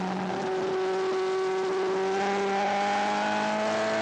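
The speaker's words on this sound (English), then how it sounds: "a short straight, and down all 5 gears for turn 9." A superbike on a racetrack gives a loud, steady, high-revving engine whine that holds for several seconds, with its pitch shifting a couple of times under constant wind and road roar.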